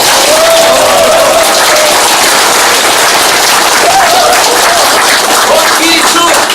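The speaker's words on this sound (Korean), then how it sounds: "큰 박수 한번 보내주시기 바랍니다" A packed crowd at a campaign office opening for a provincial council candidate breaks into loud, dense clapping mixed with scattered cheers and shouts, continuous and close.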